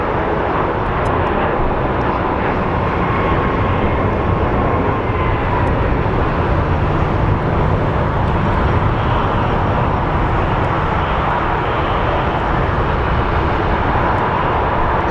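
A departing airliner bound for San Antonio from Phoenix Sky Harbor roars steadily and loudly for the whole stretch, a broad continuous jet rumble with no voices over it.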